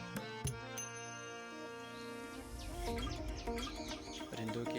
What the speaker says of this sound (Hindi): परिंदों के चहचहाने की खूबसूरत आवाज़ें आ रही हैं।